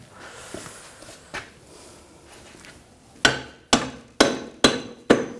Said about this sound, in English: Might have to tap it with a hammer.